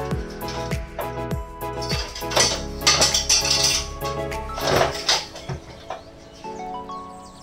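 A spoon or spatula stirs maja blanca mixture with condensed milk in a metal pot, scraping and clinking steadily and close by with short bursts of rattling, no talk.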